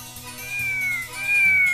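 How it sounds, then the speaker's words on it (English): A domestic cat meows twice in quick succession, clear and close, set over a steady musical backing of a children's alphabet song. "C for cat"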